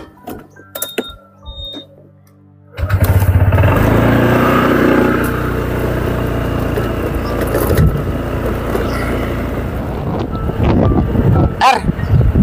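A motorcycle ride with strong wind buffeting the microphone: after a quiet opening with scattered small sounds, a loud continuous engine-and-wind roar kicks in and carries on steadily, with a few sharp knocks near the end.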